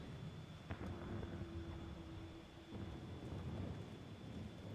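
Faint, low thunder rumbles under steady rain and wind in Final Fantasy XIV, a continuous distant storm wash with a soft tonal whine running through it.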